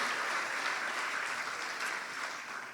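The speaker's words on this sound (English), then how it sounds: "another round of applause to our sponsors" Steady clapping from a large crowd at a senior awards ceremony, a dense, even wash of applause that tapers slightly toward the end, with no talking.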